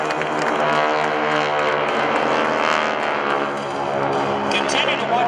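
GEICO Skytypers propeller planes roar overhead in a fan pass at an Air National Guard open house airshow in Rhode Island, a loud, steady, throbbing multi-engine drone that holds throughout.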